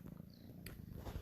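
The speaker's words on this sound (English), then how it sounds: "Forgive me if you can hear purring in the background." A domestic cat purrs faintly in the background, a soft low rumbling that runs steadily through the short stretch.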